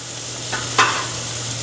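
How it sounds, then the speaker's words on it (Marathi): Chopped onion is stirred into a hot mustard-seed tempering in a pan for dadpe poha with the gas turned off, giving a soft sizzle and a brief scrape of the spoon at close range. "त्यामध्ये आता कांदा फक्त हलवून घ्यायचा आहे."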